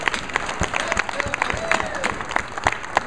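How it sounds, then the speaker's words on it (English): A conference audience claps in a thin, uneven patter, individual hand claps standing out over a faint background murmur of the room. "So give yourself all a big round of applause."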